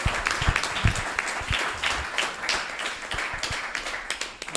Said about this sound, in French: Merci, on l'applaudit encore.